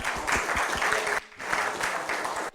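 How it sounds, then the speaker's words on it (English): A seated class audience gives a real estate investing speaker named Nancy a round of applause: dense, close clapping in two short bursts separated by a brief lull. "Let's give her one more round of applause."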